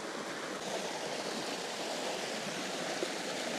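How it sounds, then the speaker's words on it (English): A mountain stream in Norway rushes steadily and fills the space with close, continuous broadband water noise. A coffee pot is being filled from it on slippery mossy rocks, and no voices are heard. "I'm just going to fill it up with some fresh water from the stream and cook some coffee"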